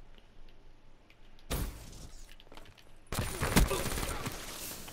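Flashbang grenade going off in a multiplayer shooter, a sudden loud burst followed by a harsh ringing wash, then a second even louder blast a moment later amid gunfire noise.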